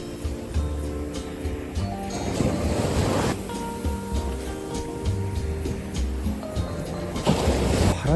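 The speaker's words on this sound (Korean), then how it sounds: "바람이 세게 불진 않는데 파도 같아" Steady roar of ocean waves breaking and rushing in at Busan, South Korea, in the rain, loud and continuous with surging swells and some wind noise.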